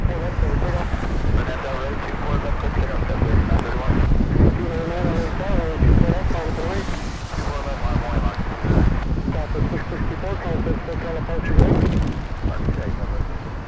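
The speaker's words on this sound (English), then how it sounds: "Oh, breeze powering up." Gusty wind buffets the microphone at an airport plane-spotting spot near Los Angeles International, a rough continuous rumble rising and falling in strength, with a voice talking over it.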